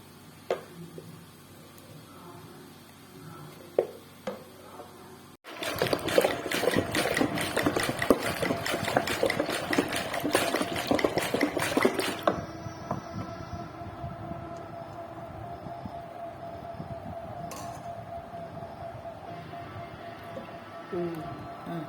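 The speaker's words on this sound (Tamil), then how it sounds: "இப்போ ஓரளவுக்கு சிலுப்பிட்டேன் வெண்ணெய் கொஞ்சமாக வந்திருக்கு திரும்பவும் சிலுப்பிக்கலாம்" An electric churner whirs loudly through cream as it turns to butter for homemade ghee. The motor starts abruptly after a few quiet seconds of faint talk, runs for about seven seconds, and then gives way to a quieter hum while a voice speaks.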